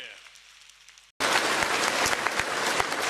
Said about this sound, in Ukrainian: дорогі друзі, оплески